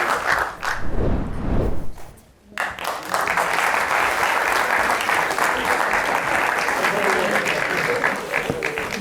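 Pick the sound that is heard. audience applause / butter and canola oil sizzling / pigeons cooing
audience applause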